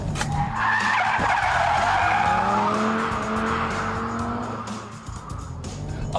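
A car skids through a handbrake turn on a test track, tyres squealing loudly and continuously for several seconds over engine roar, then easing off near the end.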